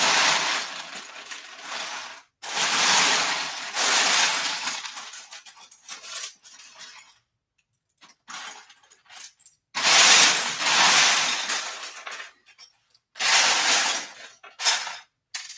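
Tan LEGO bricks being picked out of a pile, with loose plastic pieces clattering and rattling in several long bright bursts broken by short pauses and scattered clicks.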